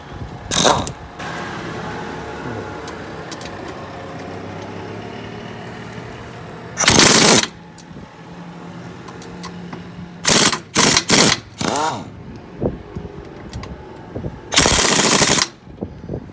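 An air-powered impact wrench working stubborn screws loose on a boat mast. It fires several loud, close hammering bursts, some long and some short and choppy, with quieter gaps between them.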